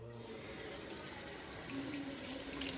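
Water runs steadily from a tap at a gurdwara in Brampton, Canada, a faint, even splashing rush heard alone.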